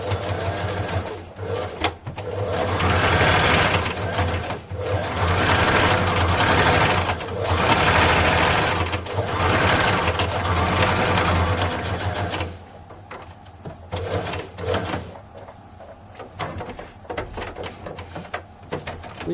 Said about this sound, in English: Now I'm stitching.